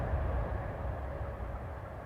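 A steady, rumbling drone of a train in the video game Train Sim World 2021, moving along at speed, continuous and even, with no voices.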